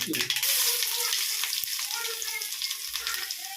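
Garlic fries in hot oil with mustard seeds for an eggplant kara kuzhambu, giving a close, continuous crackling sizzle that fades slightly over a few seconds.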